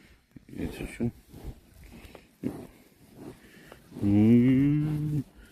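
Cows mooing at Dunbrody Abbey in Ireland, one long, loud, close low moo near the end after scattered sniffs, footsteps and quiet voices.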